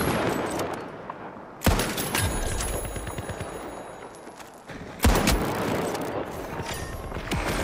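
Gunfire in the video game THE FINALS, with a steady, dense stream of rapid shots and two sharp, loud blasts standing out against the continuous firing, close and heavy.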